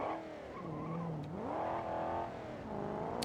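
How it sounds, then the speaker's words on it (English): A BeamNG.drive taxi fitted with a 4.4 liter V8 and five-speed manual, engine pitch climbing, dropping at a gear change, then rising again, with tire squeal mixed in; loud and close, no talking. "Oh, it does change gears."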